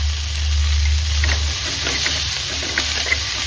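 Onions and chilli sautéing in a pan for South Indian chicken fry, a steady close sizzle with a low rumble early on and faint stirring clicks, no voices.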